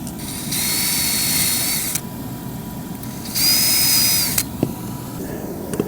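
Power drill driving screws into roof brackets for a MaxxAir Fanmate vent shroud on a Bigfoot 25RQ trailer, two loud, steady whirring runs of about a second and a half each, separated by a pause and followed by a few light clicks.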